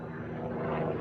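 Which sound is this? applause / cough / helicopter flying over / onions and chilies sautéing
helicopter flying over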